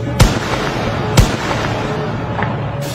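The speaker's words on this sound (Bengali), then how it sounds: "আবারও গুলির শব্দ" Police rifles fire near a university's main gate: two sharp, loud cracks about a second apart, each cutting through a noisy, restless outdoor background.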